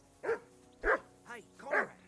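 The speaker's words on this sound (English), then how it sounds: "I assume you can hear that damn dog of yours barking." A dog barks in the Kingdom Come Deliverance 2 video game, four distinct barks spaced about half a second apart, fairly close and clear with nothing else prominent.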